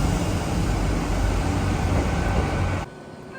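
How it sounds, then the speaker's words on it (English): Loud steady rumble of a Great Western Railway passenger train running on the rails toward Westbury, England, broadband and continuous, cutting off abruptly near the end. "this is a Great Western Railway service, and this will take us up to Westbury"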